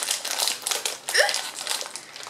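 Plastic packaging of a Japanese snack crinkles as it is handled and opened, a few close, bursty rustles and crackles over about two seconds.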